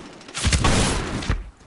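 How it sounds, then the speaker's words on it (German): A burst of gunfire in the video game Medal of Honor Warfighter multiplayer, loud and close, with a short rattle of shots and a final crack before it cuts off. "Ein Schuss, ein Treffer."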